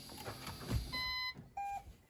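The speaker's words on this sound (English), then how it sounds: "You will hear beep" A Toyota Corolla hybrid gives electronic beeps when the start button is pressed: two short tonal chimes over a low background hum.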